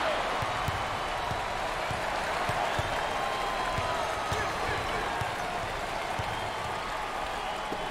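Arena crowd at a college basketball NIT semifinal between Buffalo and Oklahoma State applauding a favorite player, a steady broad wash of clapping and cheering sustained throughout with occasional ball bounces beneath.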